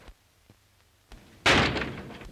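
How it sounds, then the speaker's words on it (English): A door is shut in a 1937 black-and-white film, with a few soft knocks leading into one loud, sharp thud that fades out over a short tail. "And close the door."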